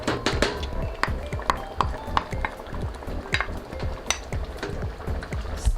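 Mashed bananas being stirred into Haitian pain patate batter in a bowl, a spoon scraping and knocking against the sides in a quick, uneven rhythm of close clinks and soft thuds.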